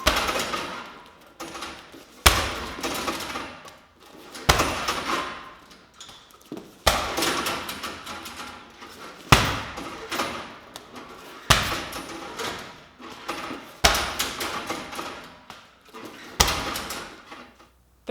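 Repeated hard low kicks slam against a leg in a conditioning drill, landing roughly every two seconds as sharp, loud impacts with short decays, about eight strikes in a steady rhythm and no talk.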